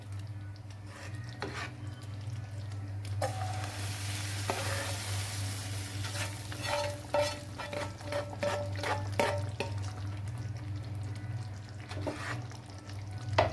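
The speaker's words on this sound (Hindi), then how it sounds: "अच्छी तरह मिक्स करना है इसको।" Chana daal stirred and frying in a pan, a steady close sizzle under repeated scraping and rubbing stirring strokes, with occasional light clinks of the spoon against the pan and no talking.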